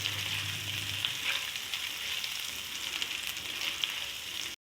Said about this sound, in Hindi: इधर भी ज़ीरा लूँगी हाफ टी स्पून और डालूँगी लहसुन अदरक